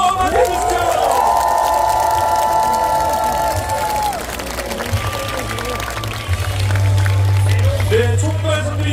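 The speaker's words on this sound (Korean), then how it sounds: "여러분 뜨거운 박수로 맞이해주십시오." A large outdoor election rally crowd in Yeouido Park, Seoul cheers and claps under music and a loudspeaker announcer, a dense, roaring mass of sound that swells and continues throughout.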